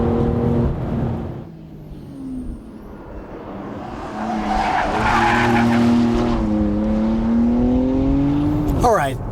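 BMW X3 M and X4 M Competition SUVs on a racetrack, tires squealing and skidding through a corner while an engine note rises and falls. Loud and close throughout, ending in a sharp burst.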